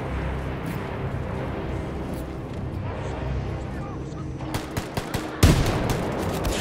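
Rapid shots from a small handgun in the first-person shooter Wolfenstein II: The New Colossus, a quick run of sharp cracks that ends in a louder burst, over a rumbling game soundtrack.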